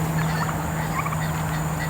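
Turkeys gobble on a farm, their rolling, bubbling calls fairly close and loud over a steady background, with no voices.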